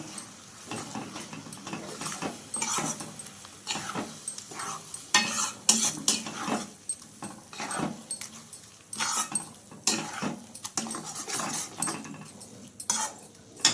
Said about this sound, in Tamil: இதில் ஆறு முட்டை அளவு நான் உடச்சி ஊற்றிருக்கேன் இந்த அப்படியே நல்லா கலக்கிடலாம்